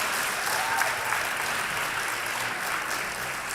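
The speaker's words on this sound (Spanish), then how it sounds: "No sé qué aplauden" Lecture hall audience bursts into sustained, even applause, a thick continuous wash of many hands clapping with no speech over it.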